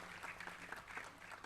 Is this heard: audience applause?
yes